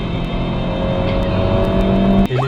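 A Honda Civic running on LPG revs hard at full throttle with VTEC engaged, a loud, sustained engine roar that holds steady and then drops abruptly near the end as the revs fall.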